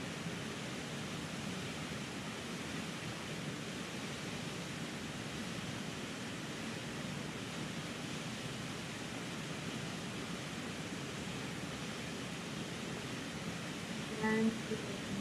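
Steady, broad rushing water from a waterfall in the Catskills, a continuous even roar that holds at the same level from start to finish with no voices over it.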